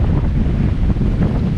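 Strong wind of around 30 to 35 knots buffets a sailboat running under staysail alone in the Caribbean channels between Martinique and Guadeloupe, a loud, low, continuous roar of gusts and water.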